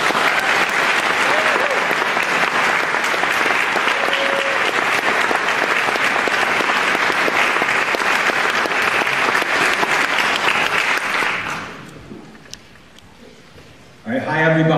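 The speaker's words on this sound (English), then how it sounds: "Big round of applause for Carl Mears." Audience applause greets a keynote speaker at a climate protection talk, a dense, steady wash of clapping for about eleven seconds before it fades out, then a voice begins speaking near the end.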